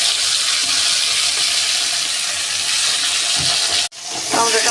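Chopped tomatoes sizzle loudly in hot oil spiced with cinnamon, cardamom, cloves, dried chilli and bay leaf, a dense crackling hiss that briefly cuts out near the end before resuming.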